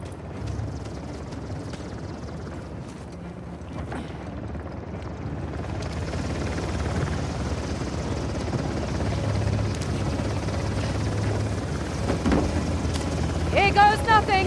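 A helicopter's rotor chop thrums steadily in Uncharted: The Lost Legacy, a continuous rumbling drone that grows louder toward the end, with distant voices and game action mixed in.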